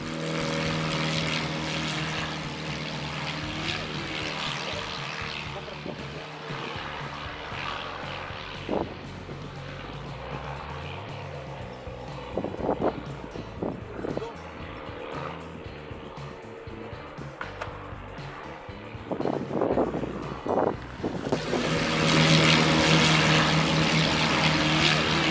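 A propeller airplane near the Aero Club Ushuaia, an old naval air station used for sightseeing flights, makes a steady droning hum throughout that swells louder near the end.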